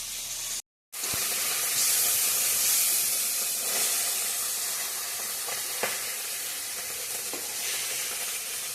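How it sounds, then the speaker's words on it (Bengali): Koi fish frying in a pan, a dense continuous sizzle and hiss that holds steady after a brief dropout at the start, with a few faint clicks scattered through. "মাছগুলা ভাজা হচ্ছে এখন।"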